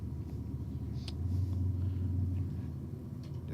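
A Volkswagen Golf with a DSG gearbox launches down the Sydney Dragway strip, a low engine rumble swelling briefly and fading, heard at a distance beneath faint background noise.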